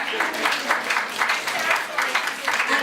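An audience at the Jamaican Diaspora Conference launch in Toronto claps together in a steady, rhythmic beat, with each clap landing as an evenly spaced burst close up.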